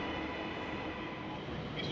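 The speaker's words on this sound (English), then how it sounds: "here's our slightly late running incoming Class 1951 3-car CAF diesel multiple unit" A three-car Class 195 CAF diesel multiple unit arrives at a station on the Windermere branch line, giving a steady, fairly loud rolling rumble and engine drone throughout, with no voices.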